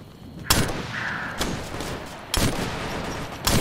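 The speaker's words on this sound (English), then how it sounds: "We're under fire." Gunfire in the military shooter Operation Flashpoint: Red River, sharp loud shots cracking at irregular intervals over a constant battlefield rumble.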